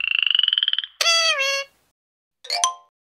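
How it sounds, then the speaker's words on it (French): A frog croaks in a rapid pulsing trill, then gives two short, bright, warbling calls with a pause between, close and clear with no other sound. "La grenouille."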